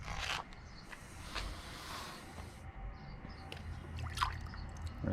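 Gold pay dirt poured into a pan of water, a soft continuous wet rustle and trickle with scattered small splashes and gritty scraping, fairly quiet and close, no voices.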